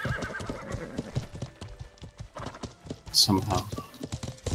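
Hoofbeats clop and a horse whinnies in a medieval battle in the game Life is Feudal, the clatter fairly faint beneath players talking over voice chat, with a sharp neigh rising briefly near the end.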